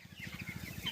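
Broiler chickens spread across straw bedding make soft, steady low clucking and rustling, a close, continuous murmur from the flock with no talking.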